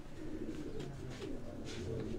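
Chhap pigeons of a Sialkot breeding line cooing softly in a loft, low murmuring coos repeating under a faint, steady background hum.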